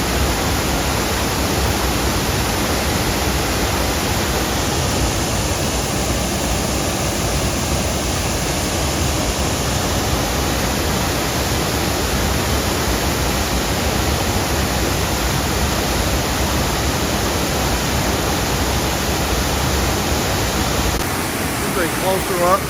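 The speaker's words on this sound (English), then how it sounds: "A closer up view of the waterfall." Abrams Falls in the Great Smoky Mountains pours with a steady, loud rushing roar, a dense, unchanging wash of falling water heard up close throughout.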